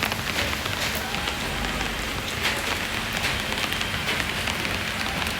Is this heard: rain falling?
yes